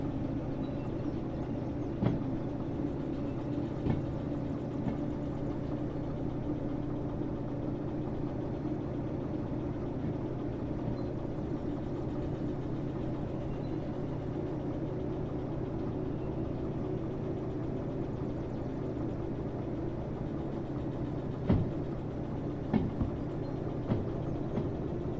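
A locomotive hauls a heavy load in Derail Valley, a steady low engine drone and rumble running continuously with a few faint clanks and ticks.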